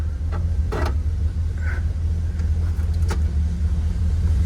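A 1966 Chevrolet Impala engine idles steadily while warming up, a continuous low rumble with a few faint clicks and knocks over the top, heard close with no one talking.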